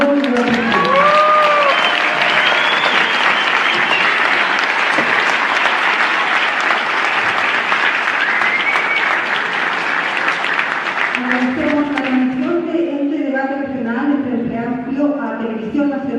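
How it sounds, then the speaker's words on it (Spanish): Loud, sustained applause from a debate audience welcoming Frente Amplio candidates in Coquimbo, Chile, filling the space steadily before a voice begins speaking over the fading clapping. "Vamos a recibir con un aplauso entonces a la candidata y el candidato del"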